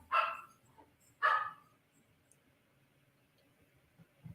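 Two sharp dog barks ring out about a second apart, fairly close in a quiet indoor room, followed by near silence.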